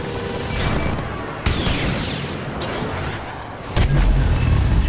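A Separatist dreadnought in a Star Wars starfighter video game fires all its batteries, producing loud, deep booming blasts and crashes layered over a dense rumbling battle roar, with a heavy impact near the end.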